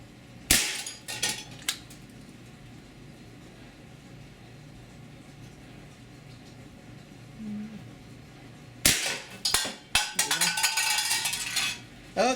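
Shots from an Evanix AR6 .22 calibre pellet pistol: sharp, loud cracks, one early and a quick cluster near the end, separated by a long quiet stretch.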